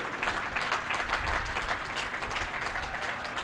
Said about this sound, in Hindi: सारे कार्यकर्ता मिलकर के जोरदार तालियों से